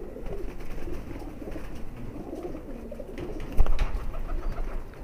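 Female high flyer pigeon cooing softly in a loft, low murmuring coos repeating against a quiet background, with one slightly louder burst late on.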